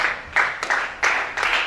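Applause from a congregation at a church service, heard as short repeated bursts of clapping, fairly close and loud, about four quick waves over a couple of seconds.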